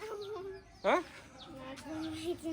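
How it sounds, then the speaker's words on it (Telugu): A chick gives a short sharp cluck amid soft background clucking and chirps, close by and fairly quiet. "ఎంత చిన్న కోడి అది"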